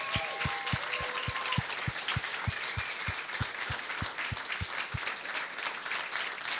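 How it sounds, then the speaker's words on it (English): Audience applause for teachers at a coding bootcamp demo day in Berlin: a crowd clapping steadily and fairly close, with a regular rhythmic beat thumping underneath. "Huge round of applause."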